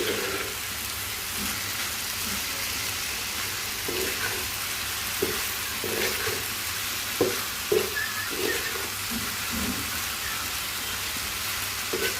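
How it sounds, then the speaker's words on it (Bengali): Oil sizzles steadily in a pan while a utensil scrapes and stirs the frying potatoes in occasional soft strokes. "আলুটা একটু নেড়ে চেড়ে দিই"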